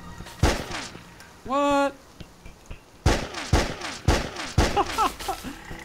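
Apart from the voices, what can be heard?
gunshots from a loaded gun in video game Enigmatis 3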